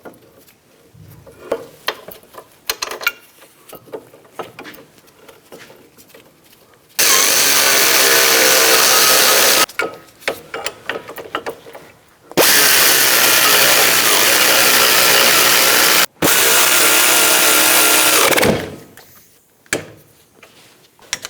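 Air impact wrench spinning in the caliper bracket bolts on the front brakes of a 2004-2009 Toyota Prius, three loud sustained rattling bursts of a few seconds each, separated by quieter clinks of tools and parts.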